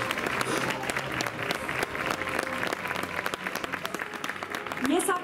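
Sustained crowd applause at a concert of Holy Week processional music in Ronda, dense and steady clapping from a large audience that fills the whole stretch without pause.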